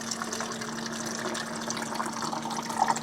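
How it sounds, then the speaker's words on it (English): Water runs steadily from a SimPure UV filter dispenser into a cup, a continuous close pouring and trickling sound with a faint constant hum underneath, no voices. "It's actually filtering the water right now with UV filter, as well as some other filters in the back."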